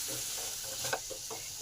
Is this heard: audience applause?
no